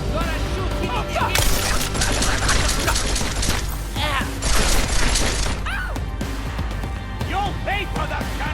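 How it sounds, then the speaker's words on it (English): Gunfire in Deus Ex: Mankind Divided, loud crackling bursts and shattering impacts amid a noisy firefight, with game characters shouting over the shots throughout. "Gonna shoot him!"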